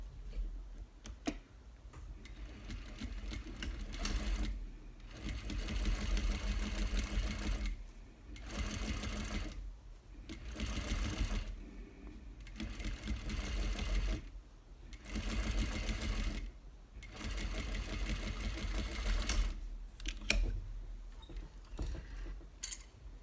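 A sewing machine stitches a French seam in fabric in several runs of steady, rapid mechanical whirring and ticking, separated by short pauses, close and clear with no talking.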